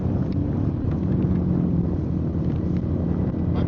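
A motorcycle rumbles past on a wet night road during a rainy ride, its steady low engine drone blending with heavy wind buffeting from a moving rider's microphone.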